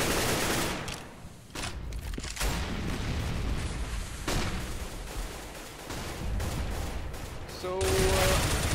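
Rifle gunfire crackles through a Counter-Strike match on the Cache map, with bursts and scattered shots repeating throughout, loud and busy, ending in a louder volley.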